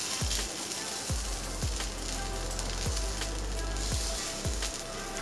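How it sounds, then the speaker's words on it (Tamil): A wheat flour vegetable dosa sizzles steadily on a hot pan, a continuous frying hiss broken by several soft low thumps, close and alone without talk. "நல்லா நம்ம தோசை வெந்துடுச்சு ஒரு பக்கம், இன்னொரு பக்கம் குக் பண்ணலாம்."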